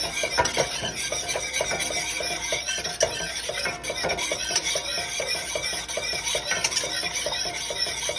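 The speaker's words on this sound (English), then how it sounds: "What the whisk is going to do is, it's going to get those lumps out of here." A wire whisk clatters steadily against a pan as milk is beaten into a lumpy mac and cheese sauce, a quick repetitive metallic scraping rhythm heard up close with no talking.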